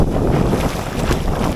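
Strong seaside wind buffets loudly against the microphone in rough continuous gusts, a deep roaring rumble with faint surf underneath.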